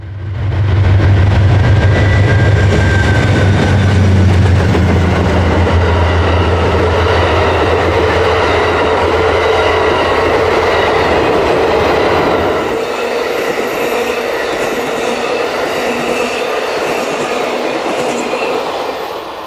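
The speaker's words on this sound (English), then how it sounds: "As the train disappears around the next bend" An Amtrak passenger train rolls past close by along the Williamson River in the Winema National Forest, a loud steady rumble of engine and wheels that eases slightly as it moves on.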